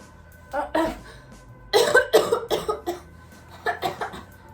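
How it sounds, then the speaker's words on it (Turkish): Several bursts of harsh coughing, close by, in a few clustered fits with short pauses between them. "Aynen gitti öksürüyor."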